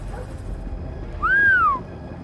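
A dog in the stealth video game Splinter Cell Blacklist gives a single rising-and-falling whine of about half a second, clear over a steady low game ambience.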